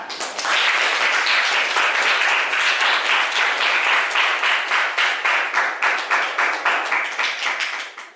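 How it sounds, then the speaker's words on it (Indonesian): Students in a classroom at an Islamic senior high school in Surabaya applaud together after a maths lesson, a dense, steady burst of clapping that starts abruptly and fades toward the end, with no talking over it. "Beri tepuk tangan untuk kalian semua."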